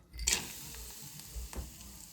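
Cashews and almonds dropped into very hot cow's ghee in a pan sizzle softly, with a brief burst of frying as they go in and light stirring scrapes afterward, quiet and close.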